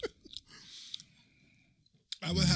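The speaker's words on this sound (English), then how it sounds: "You hear that crunch, son?" Crunchy chewing, a few short crisp bites and clicks up close at the start, then quieter munching before a loud burst of talking near the end.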